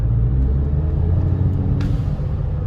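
A VW Golf Mk5 GTI engine under light throttle gives a steady, close, low rumbling drone with no voices.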